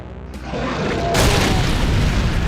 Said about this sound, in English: Explosions by Michael Bay